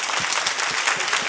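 A studio audience breaks into steady, dense applause, a continuous wash of many hands clapping close and loud throughout.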